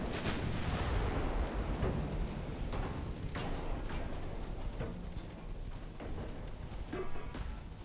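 Naval guns firing in a warship video game, including close-range 2-inch guns, as a run of sharp booms and cracks over a constant dense rumble of battle noise.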